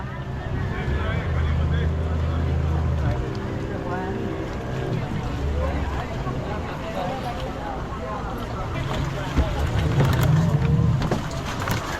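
A small boat engine drones steadily near Sindhudurg fort, a low continuous hum with water and ambient noise, while people talk over it throughout.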